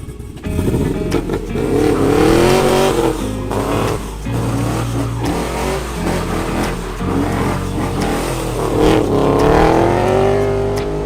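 A loud car engine, an LS V8 fitted with a canister-style exhaust, revs up and down repeatedly, a deep throaty exhaust roar rising and falling in pitch, close by with no talking.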